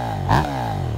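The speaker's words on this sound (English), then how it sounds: "It's got a nice exhaust note." A stock 2023 KTM 790 Duke engine idles steadily, then gives one short, sharp blip of revs through its exhaust before settling back, heard close and alone.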